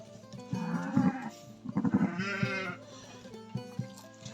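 Several small, thin bleats from newborn lambs overlap in short bursts, close by, with soft rustling between calls.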